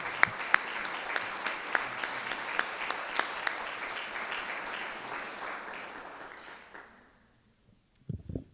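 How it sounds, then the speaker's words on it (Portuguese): A church congregation at a Portuguese-language Lord's Supper service applauds, a dense sustained round of clapping with sharp individual claps that fades to near silence, followed by a brief sound at the end. "Vamos aplaudir o Senhor."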